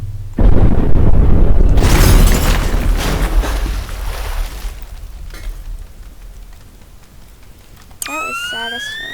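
A C4 charge detonates in the video game Teardown with a sudden loud boom, followed by a long rumbling, crackling decay of falling debris that fades before a sharp rising tone near the end.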